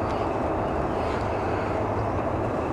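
An airliner taking off at Manchester Airport gives a steady, broad jet roar that holds constant throughout, heard from a distance outdoors with no voices.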